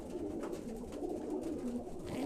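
Pigeons coo softly in a loft, low rolling calls repeating under a constant background murmur, fairly faint and somewhat distant, with no talking.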